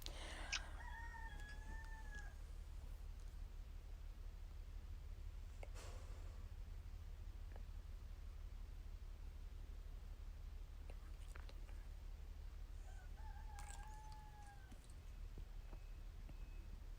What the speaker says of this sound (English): you guys can take a shot every time my roosters crow.